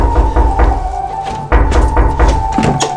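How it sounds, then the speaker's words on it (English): Several loud knocks on a hotel room door in the Medina of Marrakesh, sharp raps in an uneven rhythm close by, heard over a steady hum. "There's a knock on the door."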